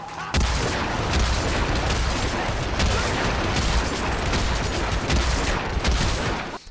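Propane tank blowing up in Hitman: Absolution, a loud, dense burst of blasts and rattling gunfire-like crackle that holds steady for several seconds, up close, with no voices over it.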